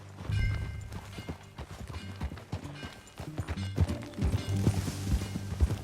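In Red Dead Redemption 2, riders set off on horseback, and hooves clip-clop in a quickening, steady rhythm with creaking tack, up close and loud, with no voices.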